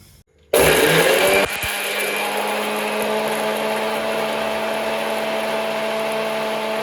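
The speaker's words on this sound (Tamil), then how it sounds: "இப்போ இது எல்லாமே பேஸ்ட்டாக அரைச்சிக்கலாம்" A kitchen mixer grinder whirs into a loud, high-pitched whine as it blends garlic, shallots and tomatoes into paste, starting abruptly after a brief quiet moment and then settling into a steady, slightly lower drone.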